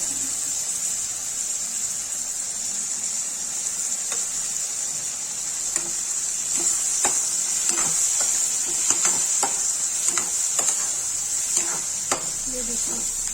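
Chickpeas fry in a pan with red chilli while being stirred, a steady bright sizzle running throughout with repeated scraping clicks from the stirring spoon, close and moderately loud.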